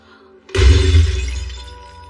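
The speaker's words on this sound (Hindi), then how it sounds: "टूट गया। भूत ने हमें नकली अंडा दिया।" A precious thousand-year-old egg shatters suddenly with a loud crash and breaking burst, followed by a long ringing, scattering decay, with a dramatic film soundtrack setting.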